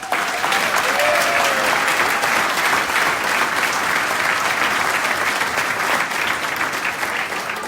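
Sustained, dense applause fills a room at a dinner dance, loud and steady throughout with no break, a few faint voices mixed in beneath the clapping.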